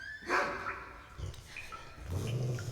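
Dog barking in a video game, a couple of short barks at moderate distance over ambient game music and rumble, no talk.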